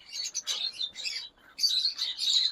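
Lovebirds and pale fellow parakeets in a bird shop trade bursts of bright, high chirps and tweets, close and lively, with a brief lull before the chattering picks up again.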